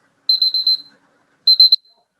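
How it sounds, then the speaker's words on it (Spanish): Electronic timer alarm beeping in two bursts, a rapid run of four high pitched beeps followed by a shorter group of three, loud and clean against silence. "Es que me sonó la alarma por el tiempo."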